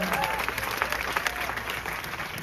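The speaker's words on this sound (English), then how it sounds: "please keep that applause going" Audience applause fills the room at the close of a stand-up comedy show, a dense, steady wash of clapping with crowd noise throughout, fairly loud and continuous.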